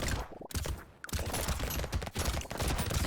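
Shredder weapon in the game Brotato firing in rapid, dense bursts with explosive hits, loud and continuous apart from two brief gaps near the start.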